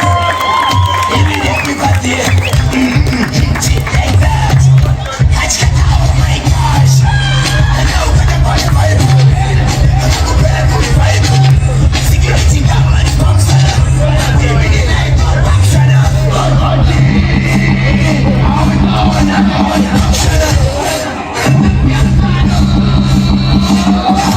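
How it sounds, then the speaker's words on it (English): A loud crowd cheers, whoops and yells at a celebration in Zambia, marking its 58th independence anniversary, with the roar sustained and overlapping throughout, broken by a brief dip near the end. "Give them a hand of applause."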